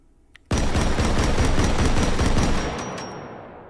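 A Pancor Jackhammer 12-gauge shotgun in the VR game H3VR fires in semi-automatic, giving a loud rapid string of blasts over about two seconds, followed by a fading ring-out.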